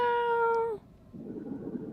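A cat gives a single clear, close, drawn-out meow lasting under a second, followed by faint low rustling.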